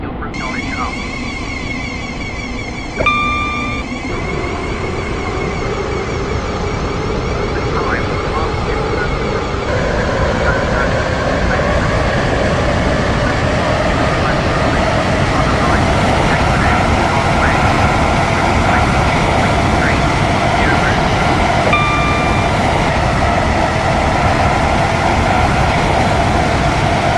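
A train runs steadily through a Stepford County Railway route in the game, a continuous rumble with brief tonal chimes early and again later, while a voice talks over it throughout.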